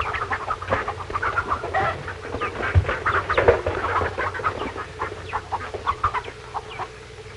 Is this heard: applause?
no